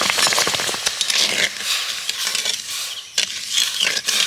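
Spoon stirring a bowl of sugar dissolving in an equal bowl of water to make syrup for chomchom sweets, a steady wet swishing and scraping with small clinks, close and continuous, no talking.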